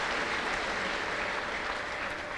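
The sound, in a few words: congregation applauding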